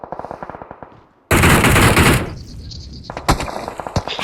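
Automatic gunfire rattles in a mobile shooter game, a sharp rapid burst of shots followed by more scattered, punchy bursts, loud and close, with little talk over it.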